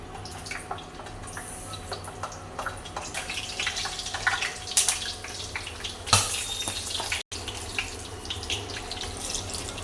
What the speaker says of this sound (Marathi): वडा तयार करायच्या अगोदर आपण मिरच्या भाजून घेऊया